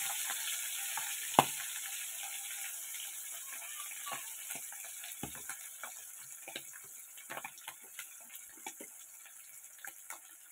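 A fish frying in oil spatters and crackles in soft, irregular pops over a quiet sizzle, with a sharper clack of a utensil early on.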